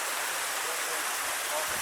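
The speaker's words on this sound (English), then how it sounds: "we're still making our ascent to the top of the third waterfall." Rushing water from the third waterfall on the Ka'au Crater hike in Hawaii, a steady broadband roar heard close and continuous throughout.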